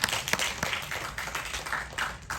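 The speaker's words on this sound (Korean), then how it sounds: "박수 부탁드립니다." A cinema audience at a film guest-visit talk claps in a faint, scattered way, with individual claps standing out against a soft, continuous background.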